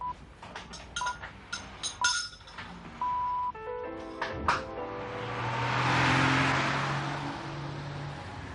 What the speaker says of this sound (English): Suzy set off for work in her company car.